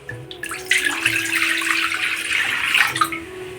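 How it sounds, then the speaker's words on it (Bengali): Water is poured into a wok in preparation for steaming fish. It makes a steady, close splashing rush lasting a few seconds, over a faint background hum and with no talking. "এবারে এই কড়ার মধ্যে আমি একটু জল দেব।"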